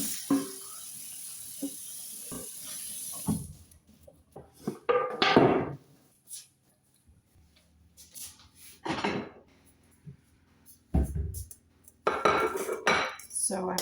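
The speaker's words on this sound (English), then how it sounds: "So I'm going to mix the beets with the spring onion and the apple." Beets, spring onion and apple being mixed in a bowl for an old Dutch beetroot salad, heard as intermittent clinks, scrapes and wet stirring knocks of a utensil against the dish, with quiet gaps in between.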